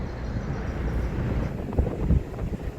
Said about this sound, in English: The wind is swirling again,